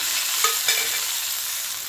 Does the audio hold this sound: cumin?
yes